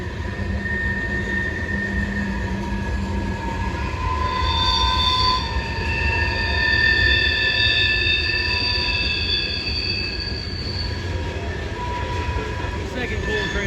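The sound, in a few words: coal train passing on the rails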